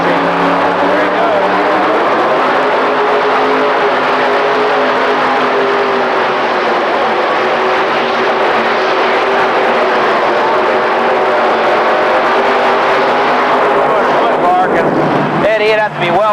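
A 7,000 lb modified pulling tractor at the 1985 Indy Super Pull roars through its run, a loud, sustained, droning engine howl under a commentator's voice, with the pitch rising and revving hard near the end.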